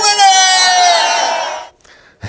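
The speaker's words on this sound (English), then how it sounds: "Some grumbles from the crowd about that extra winter time" A Woodstock Groundhog Day crowd in Illinois reacts to groundhog Woodstock Willie forecasting six more weeks of winter with a drawn-out, slowly falling groan of voices lasting under two seconds, followed by near silence.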